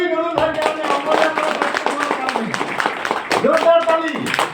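A group claps loudly in quick, uneven rounds while several people talk and call out over the clapping.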